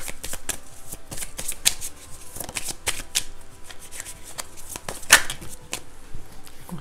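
Tarot cards riffled and shuffled by hand in a steady run of crisp, papery flutters and slaps, close and moderately loud, with no talking over them.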